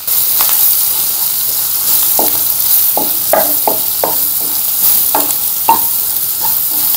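Crushed fennel, coriander and mustard seeds fry in hot oil with a steady broadband sizzle, while a spoon stirs and scrapes the pan in irregular clinks and knocks close by.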